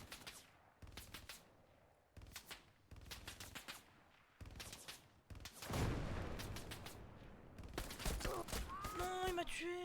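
Gunfire crackles in the World War II shooter Hell Let Loose, with repeated rapid bursts of shots, some nearby and sharp and others more distant, and a voice coming in near the end.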